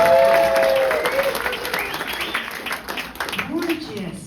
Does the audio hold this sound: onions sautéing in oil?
no